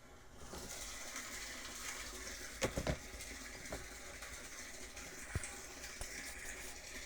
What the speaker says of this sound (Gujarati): જો ટાંકામાં પાણી ભરાય છે અત્યારે